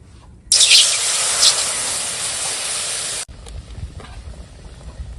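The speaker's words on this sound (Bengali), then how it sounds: "এখন দিয়ে দেব জল।" Water poured onto roasted semolina in a hot pan sets off a sudden loud hiss that holds steadily for about three seconds, then cuts off to quiet background noise.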